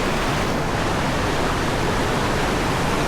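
Casaroro Falls pours in a steady, dense roar of falling water, broadband and constant like heavy surf, close and loud with no voices over it.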